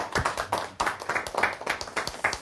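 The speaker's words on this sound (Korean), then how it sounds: "다시 한번 우리 박수 주시죠." A lecture-show audience claps in a quick, uneven burst of close, sharp hand claps, several hands striking together for a couple of seconds without speech.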